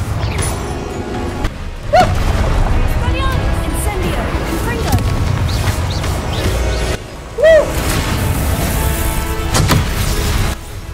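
A Confringo blasting spell explodes during a boss fight in the video game Hogwarts Legacy, with loud booming bursts and crashing impacts over a dense, ongoing battle soundscape that stays loud throughout.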